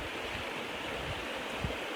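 Steady broadband rush of a flowing creek, White Rabbit Creek on a hike near Farley Lake, constant and fairly close, with no voices over it.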